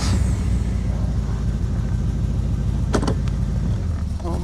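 Cobra car driving on a road in South Africa, a loud, close, steady engine rumble from inside the cabin with a few brief clicks and knocks over it.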